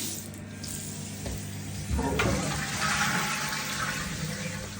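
Toilets and drains in a cellar flushed together to test the drainage, a continuous rushing of water that swells louder about halfway through and keeps gushing steadily to the end.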